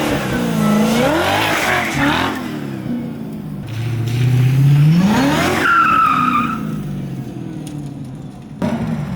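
A Glickenhaus supercar is test driven around a parking lot, its engine rising and falling through several revving pulls with tire squeal, moderately close and with no talk.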